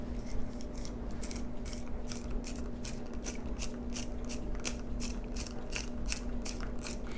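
Crushed red pepper flakes ground in a hand grinder, a steady run of rapid ratcheting clicks and crunching that repeats evenly at close range throughout, with no talking.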